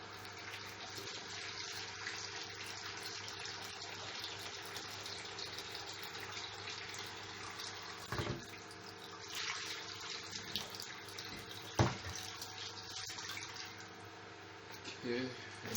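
Kitchen tap running water while cooking banga soup, a steady, faint splashing stream with a few clinks of pots, a voice talking over it.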